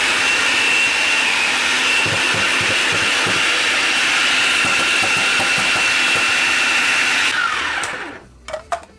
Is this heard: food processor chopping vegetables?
yes